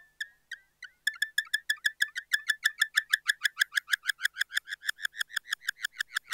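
A synthesizer run through a delay pedal produces rapid repeating chirps that mimic crickets, starting with a few sparse pulses then settling into a steady fast rhythm of clean, bright, evenly spaced clicks with no talking.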